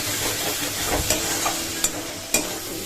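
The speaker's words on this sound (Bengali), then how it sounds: "এখানে হচ্ছে মশলা কষানো হচ্ছে" Spice masala frying and being stirred in a pan at home, a steady close sizzle with a few sharp scrapes and clinks of the spoon against the pan, no voices.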